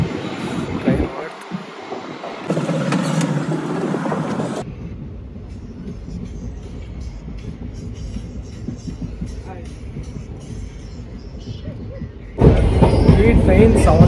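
A moving train heard from inside a carriage gives a continuous rumble and rattle, louder at the start and again near the end, with a quieter stretch between.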